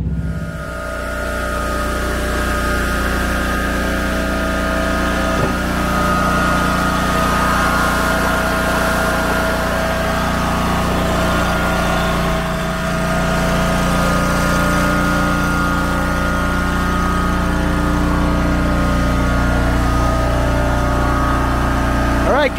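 A homemade log splitter with a five-way box-style wedge runs with a steady, loud engine drone and a low rumble that continues throughout, with voices faintly present beneath it.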